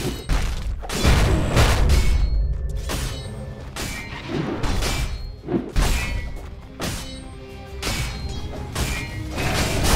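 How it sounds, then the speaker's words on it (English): A tower in Dota 2 collapses amid battle effects, with repeated heavy thuds, crashes and shattering hits crowding close together under sustained in-game noise. "Dire's middle tower just went down"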